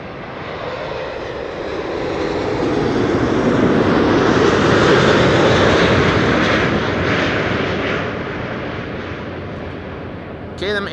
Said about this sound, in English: this is KLM flight 676, arriving from Edmonton, Canada.